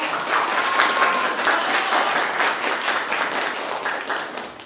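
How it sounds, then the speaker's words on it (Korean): An audience at an esports award ceremony for a winning team claps steadily and loudly, dense applause filling the whole clip and easing slightly toward the end. "박수로 맞아주세요."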